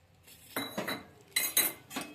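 A spoon stirs a cornflour batter mixture in a bowl, producing four or five soft, close clinks and scrapes of metal against the container at a quiet level.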